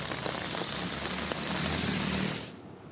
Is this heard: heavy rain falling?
yes